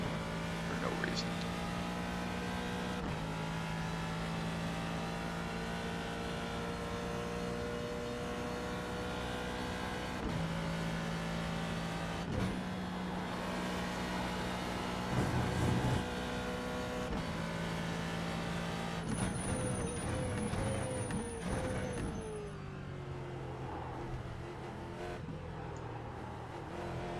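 A Ford GT2 race car at Spa in the iRacing simulator, its engine droning steadily with abrupt pitch steps at shifts and a series of downshifts near the end, while someone talks over it.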